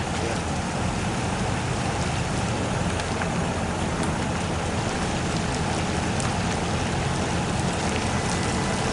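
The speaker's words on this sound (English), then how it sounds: "Getting a little bit of water on the camera because it is sprinkling a little bit." Light rain sprinkles at a lake, a dense steady hiss of drops pattering on surfaces and the nearby microphone, even and unbroken, with no voices.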